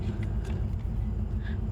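Low, steady engine rumble inside a moving bus, a constant near drone with slight bumps and swaying noise, no talk.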